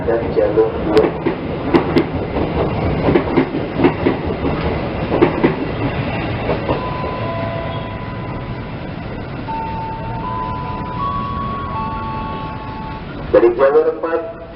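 An Argo Muria express train passing straight through Jatinegara station in Indonesia, a loud, rolling rumble with rhythmic clanks, a sustained horn-like tone partway through and station announcements over it.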